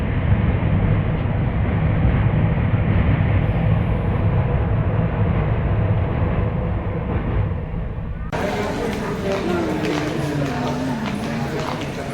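Continuous heavy rumble and rattle of a train nearby, loud and steady, with a brief squeal toward the end.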